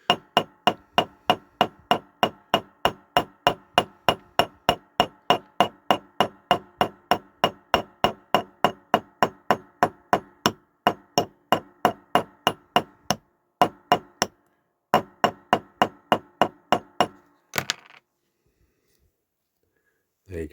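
A hammer taps rapidly and steadily on a diecast Dinky Leyland Comet toy during restoration, dozens of sharp close metallic knocks in an even rhythm, pausing briefly before stopping.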